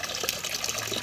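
Water runs steadily from a tap in a thin, continuous gushing stream, close and fairly loud, while fish is being washed.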